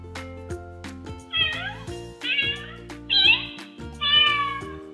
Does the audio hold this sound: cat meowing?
yes